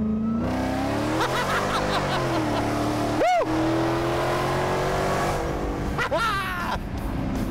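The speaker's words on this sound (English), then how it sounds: "Show me what this thing can do. The Hellcat." A Dodge Hellcat engine roars close and loud, revving up and down with rising acceleration sweeps and a deep steady rumble throughout.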